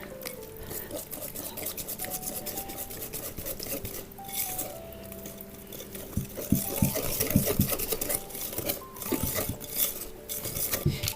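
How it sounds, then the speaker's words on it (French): A spoon stirring a citrus mixture made with orange or lemon juice in a pot, a run of clinking and scraping strokes, close and louder toward the end, with no speech. "Et je finis de remuer."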